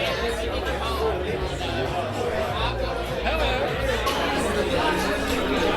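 Dense crowd chatter at a canonization event, a continuous babble of many voices surrounding the listener at steady loudness, with nearby voices talking over the hubbub.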